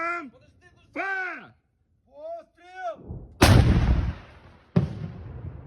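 A voice speaks briefly, then two loud, heavy artillery blasts boom one after another, each trailing into a long rumbling decay.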